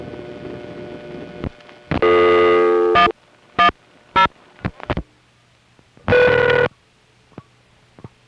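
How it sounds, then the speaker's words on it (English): Number readback clicks from a 1974 #5 crossbar central office telephone exchange, relayed over the line: scattered sharp clicks mixed with several loud, buzzy tone bursts and quiet hum between them. "it plays it on a speaker in the central office and Ben just hears a series of clicks"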